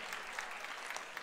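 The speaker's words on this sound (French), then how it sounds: "Applaudissements pour Christophe Boyer" Applause from a crowd at a burger championship final for a contestant, a steady wash of clapping filling the brief moment without any voices on top.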